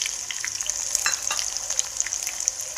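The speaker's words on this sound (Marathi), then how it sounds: "तेल आपलं गरम झालेलं आहे. त्याच्यामध्ये आपण थोडासा कांदा घालून घेऊया." Busy crackling sizzle of sliced onion and garlic frying in hot oil, dense spitting pops over a steady hiss, close up with no voices.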